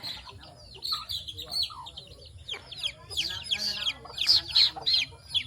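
Chickens cluck and squawk nearby in a yard in the Philippines, a string of sharp irregular calls that grow busier and louder toward the end.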